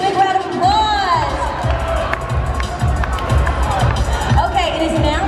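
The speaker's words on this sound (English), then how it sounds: "Let's give these guys a big round of applause." Outdoor theme park show crowd at Universal Studios Singapore's Rhythm Truck 2.0, loud and close, with cheering, shouts and whoops mixed with a bustling hubbub and a few high, whistle-like cries sustained throughout.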